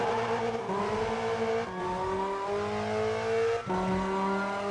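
Car exhaust rumble from the racing video game Assoluto Racing: a close, steady engine drone that climbs in pitch and then drops back at each of three gear shifts, with no voices.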